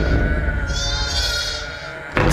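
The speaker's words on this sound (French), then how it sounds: "Il fait rentrer les grasses brebis et les chèvres." Sheep and goats bleat loudly and close, in overlapping wavering cries that carry on without a break. A brief thump comes at the very end.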